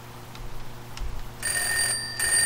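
A Swedish M37 field phone rings after being called from a test phone, its bell starting midway as a sharp metallic ringing that continues to the end, preceded by quiet room tone.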